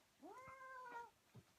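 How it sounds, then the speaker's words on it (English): A pet cat meows twice in a row, drawn-out rising and falling cries, fairly close and clear over a quiet room, followed by a faint shorter sound. "So here's my cat. Her name is Chicken. Yeah, she's a little bit loud"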